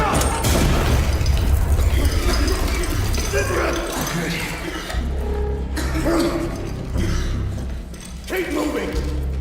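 A grenade blast in the shooter game Arena Breakout sets off a loud, heavy boom followed by rumbling and several further thuds, with shouted voices over the din.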